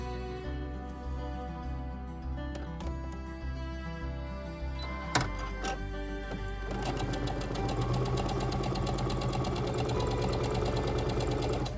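A sewing machine stitches quilt squares for a churn dash block, its needle hammering in a steady rapid rhythm close up, with a short pause and change of pace midway before it runs on continuously, no voices heard.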